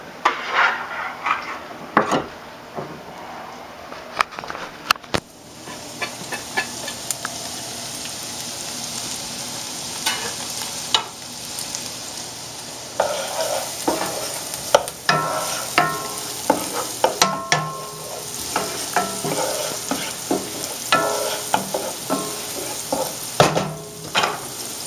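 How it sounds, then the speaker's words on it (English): Onions and garlic sweat in a hot pan for sauteed mussels, giving a steady soft sizzle broken by repeated scraping and clattering stirs throughout, with no voices. "Throw the onions and garlic in."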